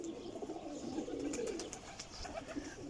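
Pigeons coo softly and continuously, a faint low murmur of several birds close together with light rustling, no voices.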